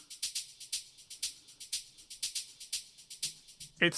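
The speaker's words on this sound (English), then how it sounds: "So this is like kind of an open hat or more like a shaker." A crisp electronic open hi-hat or shaker in a melodic techno track plays a steady pattern of bright hissy hits, alternating louder and softer accents, with a brief tonal blip near the end.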